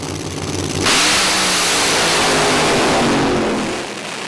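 A nitro Fuel Funny Car at the 2013 NitrOlympX drag meet at Hockenheim launches into a loud, harsh, sustained roar heard from trackside. It holds steady for about three seconds, then fades as the car pulls away.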